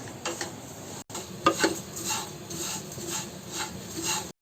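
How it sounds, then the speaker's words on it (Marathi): Oats are stirred while roasting in a kadhai over a full gas flame, with soft scraping and rustling strokes of the spoon against the metal pan repeating steadily for a few seconds, close and fairly quiet. "आता मी ते तीन मिनिटं बरोबर फुल गॅसवर मी ढवळत राहिले"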